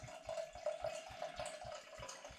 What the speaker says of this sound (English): let's pour it into the glass and have a look at it